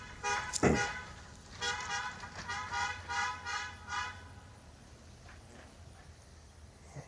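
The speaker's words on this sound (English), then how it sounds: "He's still honking." A car horn honks in a rapid series of short repeated toots, fairly close, then fades to quiet background hum.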